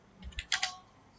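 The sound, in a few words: typing code on a computer keyboard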